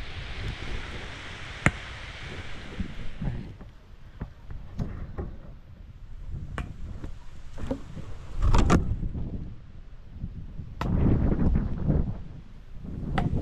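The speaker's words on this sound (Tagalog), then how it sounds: "Lakas ng hangin, ah." Strong wind buffeting outdoors, a rushing hiss at the start that breaks into uneven, loud gusts thumping against the microphone.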